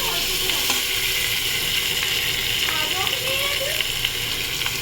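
Chopped tomato, green chili and ginger fry in a pan with a steady, dense sizzle, close and continuous, and a few light stirring scrapes come through it.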